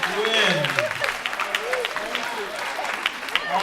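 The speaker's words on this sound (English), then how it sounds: "give them a round of applause" Audience applause after a performance at a 2018 symposium, steady clapping from a crowd lasting several seconds while a voice talks over it.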